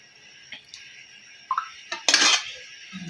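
Metal utensil scraping and clinking against a pan as hot chicken bhuna is served after resting with the lid off, a few sharp clanks and one louder scrape in a quiet kitchen.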